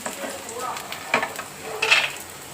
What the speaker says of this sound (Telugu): ఇప్పుడు ఇవన్నీ వేగినాయి కదా, వెల్లుల్లి రెబ్బలు